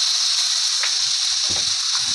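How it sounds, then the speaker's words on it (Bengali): Eggplant frying in a pan with salt and turmeric, giving a steady, loud, close sizzle throughout with a few faint stirring knocks underneath. "দিয়ে ভালো করে এইভাবে ভেজে নেব বেগুনটাকে।"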